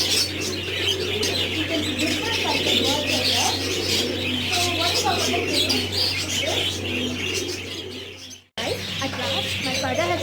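Pet birds at a bird market coo and chirp continuously over a steady electrical hum and crowd murmur, with a brief dropout near the end.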